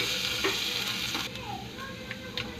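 Garlic sizzles and fries in hot cooking oil for pork sinigang, a steady close crackle that holds throughout with faint stirring clicks over it.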